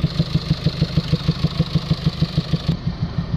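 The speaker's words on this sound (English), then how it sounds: "distinctive sound where you can hear exhaust gas coming outwards of the inlet, the air intake" Euro 6 Mercedes Vito van engine idling with exhaust gas puffing back out of the air intake under a low-pressure EGR flow fault, a loud, close, steady rhythmic chuffing pulse that keeps an even beat throughout.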